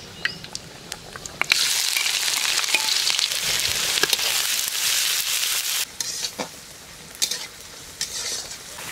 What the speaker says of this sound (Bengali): পাঁচফোড়ন, শুকনো লঙ্কা, এবারে পেঁয়াজ কুচি দিয়ে দিচ্ছি।